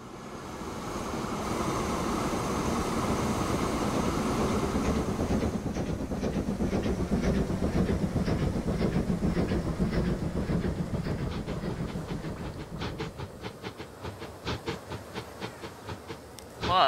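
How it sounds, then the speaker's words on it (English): An express train in the Transport Fever 2 game runs on rails with a loud steady rumble and hiss that gives way to a rhythmic clickety-clack of wheels over rail joints. "with this new faster locomotive, I'm able to keep up with this express train will now really fly"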